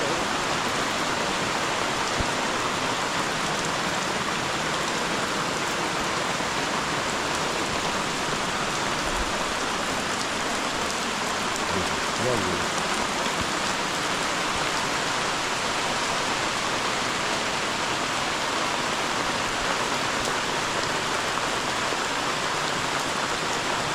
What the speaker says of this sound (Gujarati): મસ્ત વરસાદ